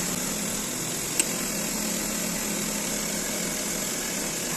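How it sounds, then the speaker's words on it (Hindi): A Maruti Suzuki WagonR engine idles steadily during a radiator replacement, a constant mid-level mechanical hum heard close with a brief single click partway through and no talk. "सो इंजन हमने चालू कर लिया है"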